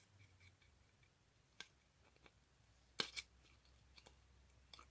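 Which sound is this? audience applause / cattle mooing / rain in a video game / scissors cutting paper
scissors cutting paper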